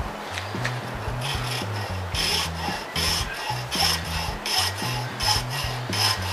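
Teflon stock being cut into short lengths by hand, a steady rasping, back-and-forth sawing stroke repeated in a regular rhythm, close and fairly loud with no talking.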